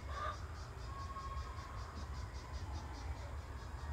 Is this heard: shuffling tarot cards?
no